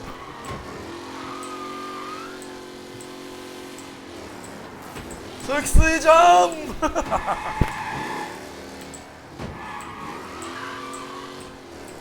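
Vintage Bugatti-like race car driven in Mafia Definitive Edition, a steady engine hum rising into a loud burst of revving and skidding crashes midway, then settling back to a low drone, with someone talking over it.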